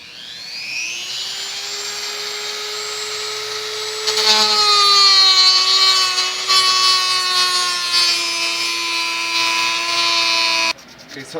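A steady, high-pitched rasping whir of power sanding on the edges of a PVC knife sheath, close and loud, holding a constant pitch before cutting off near the end.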